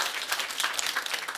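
Lecture audience at an acupressure and mind-medicine class breaks into brief, dense clapping, a short bright burst heard up close without any speech.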